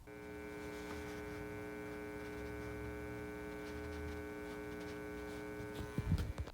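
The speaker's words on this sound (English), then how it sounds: "he makes the hum buzz of fluorescent lights from the speaker, which is rather disconcerting" A Spirit Halloween Poor George animatronic gives off a steady electrical hum and buzz through its speaker like fluorescent lights, faint but constant, with a few soft handling knocks near the end.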